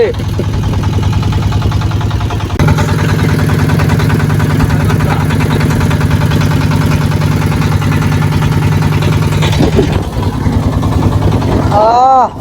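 A boat engine drones loudly and steadily throughout, with a constant low hum, while voices talk over it, on a boat trip to Sada Pathor in Sylhet, Bangladesh.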